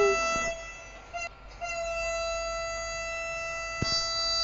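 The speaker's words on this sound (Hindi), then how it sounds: "और हम ट्रेन चलेंगे गाइस, यस, हम ट्रेन चला रहे हैं।" A train runs in the Indian Train Simulator video game, a steady engine drone with sustained tonal hums, a brief interruption early on and a sharp clunk near the end, with no voices heard.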